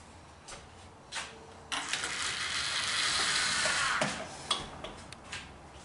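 Lever on a homemade OO gauge model railway lever frame being pushed back, giving a few light mechanical clicks with a brief scraping rasp in the middle, close and fairly quiet.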